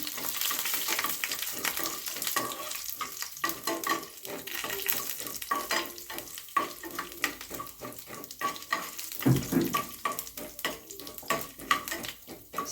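Oil sizzles and crackles steadily in a pan as dried chillies fry, with scraping and stirring strokes throughout, close by and with no voices.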